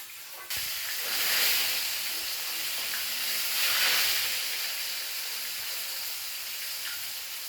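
Fish fries in a pan for fish curry, a steady close hiss and sizzle that starts suddenly and swells twice before settling into an even crackle, with no talking.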